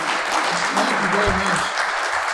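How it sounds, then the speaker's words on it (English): A museum lecture audience gives a steady, dense round of applause that fills the room, with a voice speaking briefly over it. "We have a round of applause"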